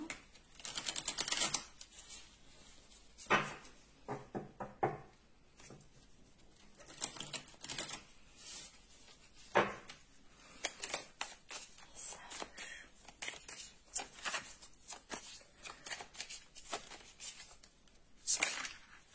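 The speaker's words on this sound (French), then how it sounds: "on me dit de brasser encore" Tarot cards being shuffled, a quick papery patter of riffles and slaps that comes in bursts with brief pauses between, close and fairly crisp, with no talking.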